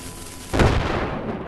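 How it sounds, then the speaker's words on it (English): A cube-shaped TNT block explodes in Minecraft: a sudden loud boom with a broad, rumbling burst, dying away into a long, noisy tail. No voices are heard. "Let's explode this Cube TNT on here."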